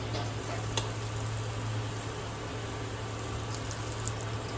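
Small dumpling balls for a Tamil urundai kuzhambu fry in hot oil, giving a steady, close sizzle with a low hum underneath throughout.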